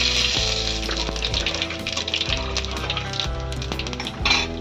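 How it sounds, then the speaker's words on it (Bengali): Katla fish head pieces fry in hot oil with a steady, dense sizzle and crackle, joined by metallic scrapes and clinks of a spatula against the pan, heard up close with no talking. "লাল লাল করে ভেজে নিয়েছি, এবার তুলে রাখবো।"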